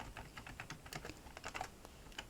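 Keys clatter on a computer keyboard in quick, uneven bursts of crisp taps, faint and close, while text is typed into a design program, with no talking.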